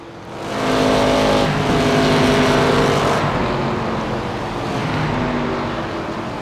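Race car engines in an ARCA Menards Series race at Iowa Speedway in iRacing roar loudly and steadily, droning through a turn and down the final stretch with no talk.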